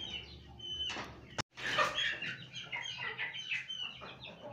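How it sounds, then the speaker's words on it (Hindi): A white Aseel rooster clucks and mutters in a series of raspy calls, close by, with a brief pause before the clucking resumes. "ये सफ़ेद मुर्गा है और जागिर नस्ल का मुर्गा है"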